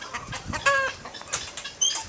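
Chickens and a rooster at Fresh Winds farm cluck and squawk in short, scattered calls, moderately near, over a faint rustling outdoor background with no talking.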